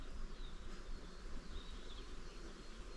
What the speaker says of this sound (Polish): Na lipie pszczoły pracują.